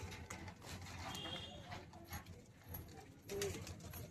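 Soft, low cooing of Teddy and Golden Madras pigeons kept for sale sits in a faint, noisy background, with a few brief thuds and rustles.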